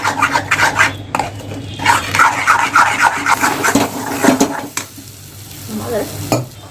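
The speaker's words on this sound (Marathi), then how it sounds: "हे बघा कढईनी जो ना आपला मसाला जो आहे ना चांगला फ्राय झालेला आहे" Spiced masala fries in oil in a kadhai for a black chana dal while a spoon stirs it steadily, giving repeated scraping strokes over a continuous close sizzle with no voices.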